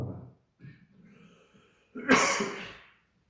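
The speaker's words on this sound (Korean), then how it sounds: "이거는 건조해서 기침한 거야." A dry-throat cough indoors during a children's church service: a few faint throaty bursts, then one loud, harsh, noisy cough near the end, close and alone with no talk over it.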